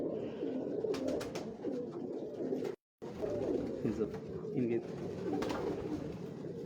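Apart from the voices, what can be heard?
pigeons cooing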